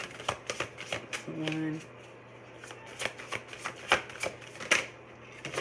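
Cards drawn and slid off a deck with a sharp riffle partway through, followed by a run of light snapping taps as cards are handled and laid down, close and fairly quiet, with a voice speaking briefly.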